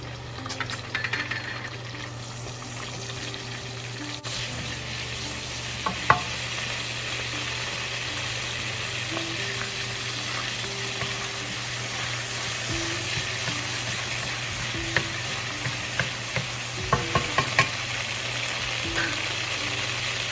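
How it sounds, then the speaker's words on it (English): Anchovies and garlic sizzling in olive oil for pasta puttanesca, a continuous even fry with occasional light utensil scrapes as they are stirred constantly, a low steady hum underneath and no speech. "add the anchovies, and let melt with the garlic stirring constantly"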